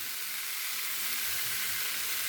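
Pumpkin stalks frying in a pan give a dense, even sizzle with no pauses, close and constant, and no other sounds break through.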